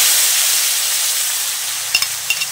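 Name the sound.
frying bagoong (fermented shrimp paste) in oil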